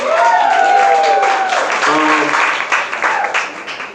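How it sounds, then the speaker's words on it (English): Audience applause during a music interview session, a broad wash of clapping under overlapping voices and a sung or drawn-out tone, fading slightly toward the end. "Y'all give a round of applause for that."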